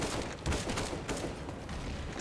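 Dense overlapping gunfire from a Counter-Strike match on the Overpass map, rapid cracks and bursts blending into a loud continuous barrage.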